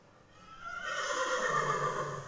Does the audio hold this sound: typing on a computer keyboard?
no